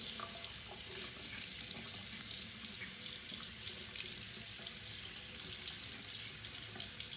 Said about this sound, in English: I'm gonna go ahead and wet my beauty blender.